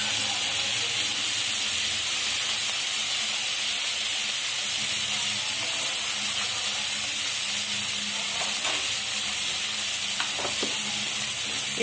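Cauliflower frying in a pan with spices gives a steady, dense sizzle and hiss that runs unbroken throughout, with a few faint stirring knocks near the end and no talking.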